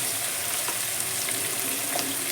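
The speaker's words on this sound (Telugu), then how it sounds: "ఈ ఉల్లిపాయలు అన్నీ వేగడానికి సమయం పడుతుంది. త్వరగా వేగాలంటే మనం కాస్త ఉప్పు కూడా వేద్దాం." Onions fry in a pan with green chillies and a pinch of salt, giving a dense, even sizzle that holds steady and close throughout, with no voices.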